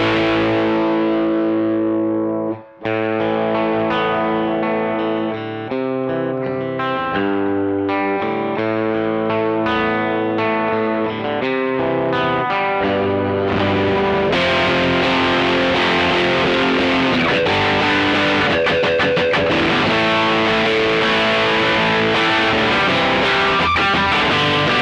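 Electric guitar played through a TC Electronic Nova Drive pedal set up as a programmable Rat and Tubescreamer distortion, a loud, continuous, heavily driven riff with sustained chords and a brief dropout early on, no voices.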